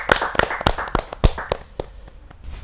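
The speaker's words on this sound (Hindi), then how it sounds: "हम जोरदार ताली का स्वागत करते हैं" Audience applause welcoming a Hindi humorous poet at a kavi sammelan, with several sharp, uneven clap bursts that thin out into scattered clapping.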